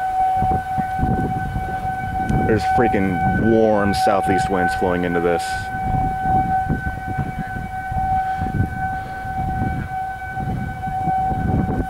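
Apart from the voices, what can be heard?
civil defense sirens during tornado warning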